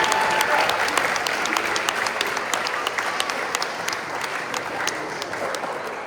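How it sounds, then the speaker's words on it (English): Parents applauding athletes in a room at a spring volleyball awards event, a sustained burst of crowd clapping that stays dense and even throughout, with some voices mixed in. "parents, please give a round of applause for all the athletes that's in this room right now"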